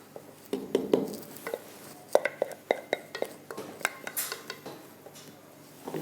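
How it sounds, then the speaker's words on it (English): Hot lemon meringue pie filling being moved from a pot into a jug, with a series of light metallic clinks and spoon scrapes against cookware, quiet and close, scattered irregularly. "So I'm going to transfer it into the jug, just to cool it down slightly."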